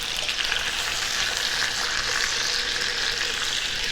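Chicken thighs in hoisin sauce sizzle and fry steadily in a hot pan, cooking on the non-skin side with a continuous close, even crackle and no talking.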